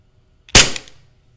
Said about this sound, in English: if anyone is afraid of a gunshot, close your ears. Because you're going to hear one right now.